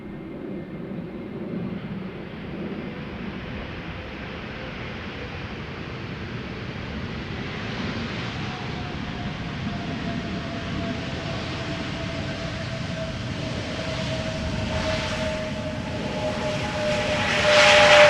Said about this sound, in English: Now going is this airplane, a Vueling A321neo.